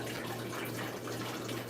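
Water pouring into a 30-gallon aquarium during a water change: a steady, broadband splashing rush with constant flow, no pauses, and a faint low hum beneath.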